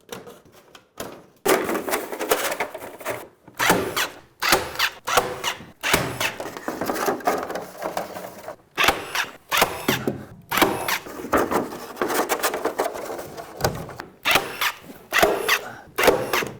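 A saw cutting a 4-foot rafter vent in half in an attic, loud and close, in repeated rasping bursts separated by short pauses.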